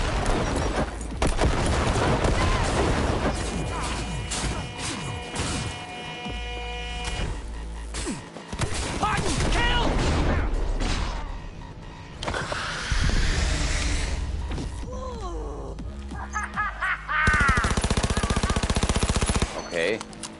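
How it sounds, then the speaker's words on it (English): Gunfire in Cyberpunk 2077 during a rescue mission, heavy bursts of automatic fire and scattered shots rattling loudly across the scene with pauses between volleys, mixed with game effects and occasional voices. "Heard shots."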